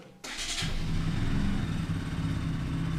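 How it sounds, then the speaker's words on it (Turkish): A motorcycle engine catches after a brief crank, then settles into a steady, close, fairly loud idle rumble that holds for the rest of the stretch. "Sonra geliyorsunuz 5 metredeki motorunuzu açıyorsunuz, çalıştırıyorsunuz."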